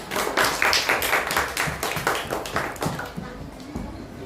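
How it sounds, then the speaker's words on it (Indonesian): Students in a classroom clap their hands together, a steady patter of many hands close by that thins out toward the end. "Tepuk tangan untuk semuanya"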